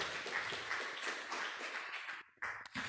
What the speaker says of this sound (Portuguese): Vamos aplaudir bem forte o nosso Deus